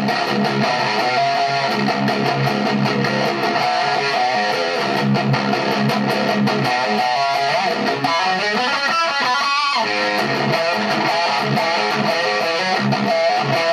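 A custom Fender Stratocaster played through its bridge pickup with heavy distortion delivers a dense, loud, continuous riff with sustained gritty chords throughout.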